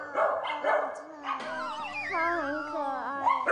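Small puppy whimpers and yelps in high, wavering whines while being held and given water at a pet shop; people talk nearby over the sounds.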